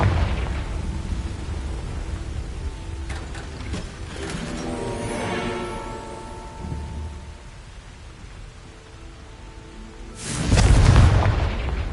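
A Confringo explosion spell is cast in Hogwarts Legacy, with whooshing magical rumbles and mechanical clanks. A heavy, deep booming blast near the end stands out over the continuous game ambience.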